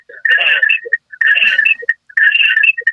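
Telephone call ringing in three evenly spaced electronic trill bursts, loud and close, each about half a second long with short gaps, on a radio show line.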